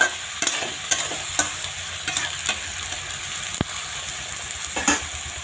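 Food frying in a pan while salt and turmeric are stirred in, a steady sizzle broken by sharp clicks and scrapes of a spoon against the pan at irregular intervals, close and clear, no talking.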